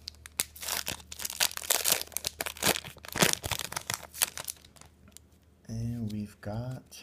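A Yu-Gi-Oh! Gold Series card pack and its packaging are torn open, producing loud close crinkling, crunching and ripping bursts, followed by a voice talking near the end.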